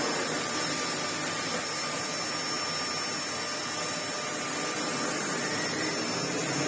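A Miele S7 Cat & Dog upright vacuum cleaner running steadily, a loud continuous whirring roar with a thin high whine that holds level throughout, close by and with no talk.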